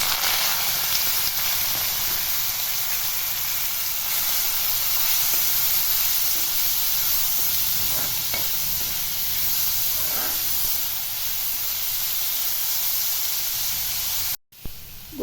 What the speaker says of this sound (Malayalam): ഇത് കടുക് ഇട്ട് കൊടുക്കാം, 1 സ്പൂൺ.